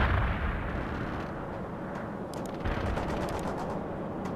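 Battlefield gunfire and artillery from the World in Conflict strategy game rumble at a moderate distance, a dense wash of low booms with scattered sharper shots, fairly faint and continuous without voices.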